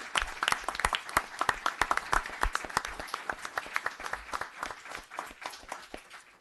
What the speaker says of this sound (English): So we're going to have a very, very nice applause for Police Officer Stephen Santoro.